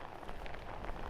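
Rain falls on a city street in a dense, continuous patter and hiss, close and fairly loud, with no voices.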